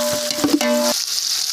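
Onions, mint and coriander frying in a pan for mutton biryani, a close, loud hiss with a brief clatter of stirring near the start and a steady sizzle after.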